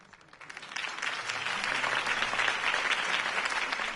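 Crowd applause in Telltale's Batman video game, rising quickly into sustained, dense clapping from a large gathering after Harvey Dent's campaign speech, steady and fairly loud throughout.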